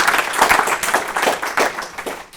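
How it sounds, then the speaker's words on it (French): An audience at a conference in Grenoble claps for the event's partners, a brief burst of fairly loud applause that peaks early and tapers off toward the end. "on peut les applaudir"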